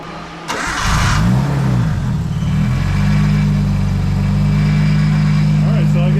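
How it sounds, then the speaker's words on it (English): Tuned cars start up inside a garage: a starter crank catches into a loud engine, blips of revving, then settles into a deep, steady idle that rumbles close and continuous. "This is actually going to be Brandon Mergdahl's cars starting up in the garage."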